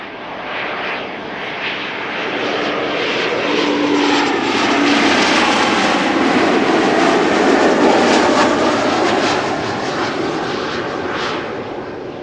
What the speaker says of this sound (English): KLM Embraer 190. First visit to Amsterdam.